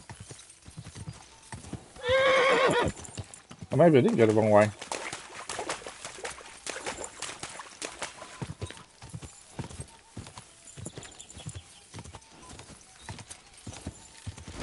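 In the Kingdom Come Deliverance 2 video game, a horse gallops with clip-clopping hooves and neighs twice in loud bursts, while someone talks over the hoofbeats and ambient game sounds.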